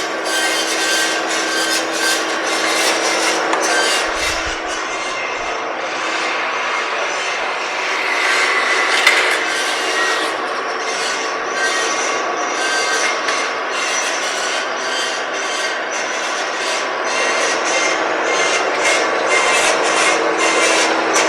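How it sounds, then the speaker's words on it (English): A used Peerless Model 1400-A automatic horizontal bandsaw, 16 by 16 inch capacity with a 1-1/4 inch blade, cuts a trim piece in a steady, loud, continuous grinding rasp with a constant motor drone throughout. "It'll automatically start cutting the first trim piece that we have"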